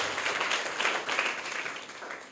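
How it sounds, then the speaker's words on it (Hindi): Audience applause at a prize-giving at Maa Bhagwati Inter College, a school in Varanasi: continuous, fairly faint clapping from a group, even and unbroken with no voices over it. "इनके लिए आप लोग बात तालियां बजाइए"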